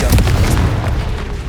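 Confringo blasting curse detonating in Hogwarts Legacy: a short, loud, deep boom that hits at once and rumbles briefly before fading.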